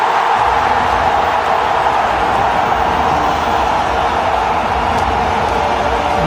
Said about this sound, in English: You get a cheer.